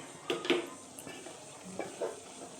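Light scraping and clinks of a spoon stirring shredded cabbage in a metal pan for South Indian cabbage kootu, a few distinct knocks early on and softer scrapes later, close and fairly quiet.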